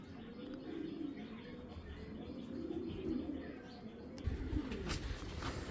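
Racing pigeons coo in low, rolling murmurs, several birds overlapping in a steady soft chorus at moderate distance, with a brief flutter-like burst near the end.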